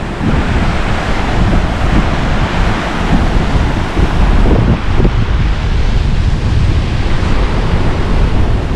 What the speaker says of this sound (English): crystal clear water, rapid because of all the rain last night again.